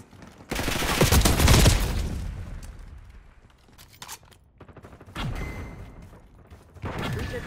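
Gunfire in the shooter game Call of Duty Black Ops 6: a dense, loud burst of automatic fire at the start, then sparser shots and clatter, with another volley near the end.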